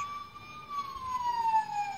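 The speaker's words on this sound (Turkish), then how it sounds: "ambulansta kolaylıkla kullanabileceğiniz 1 adet motor sesi, 3 adet siren sesi olmak üzere toplam 4 ses fonksiyonu bulunuyor" A Bruder toy ambulance plays its electronic siren sound, a single clear wailing tone slowly sliding down in pitch, close and alone with no talk.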